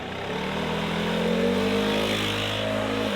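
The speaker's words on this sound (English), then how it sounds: "come through here with the weed blower, blow all this junk out of here" Gas-powered weed blower running steadily at high revs while blowing debris off a spring lawn, a loud continuous engine drone with a slight rise in pitch, alone without talk.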